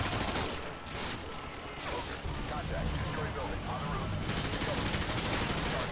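Gunfire from the Call of Duty Modern Warfare 2 video game, rapid automatic bursts and shots running steadily through the clip at moderate loudness, with faint voices in the mix.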